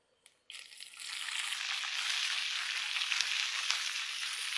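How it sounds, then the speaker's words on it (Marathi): Ajwain seeds dropped into hot ghee for a dhaba-style paneer masala tadka burst into a loud, steady sizzle right after a brief clink, frying continuously and close up with no voices. "आपण आता तुपामध्ये अजवान घालून घेऊ।"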